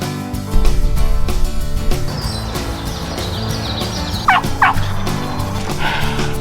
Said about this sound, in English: Some fresh gobbles.